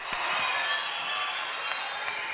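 A concert hall audience applauds an ensemble's performance, a steady dense wash of clapping heard from within the crowd for the whole moment, with a few louder claps standing out.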